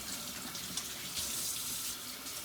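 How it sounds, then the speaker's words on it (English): Hot tap water running steadily into a sink for hand washing, a constant close splashing hiss with no voices. "Now, washing it off. Preferring hot water. Starting off with water."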